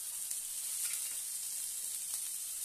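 Ingredients sautéing in a pan with ginger, a steady bright hiss of sizzling oil held at an even level throughout, close with no voices.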